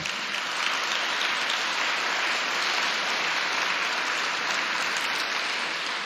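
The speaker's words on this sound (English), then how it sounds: "Yeah, you can applaud." Sustained audience applause at a literary awards ceremony, dense and steady clapping from a crowd that holds at an even level for several seconds with no voices over it.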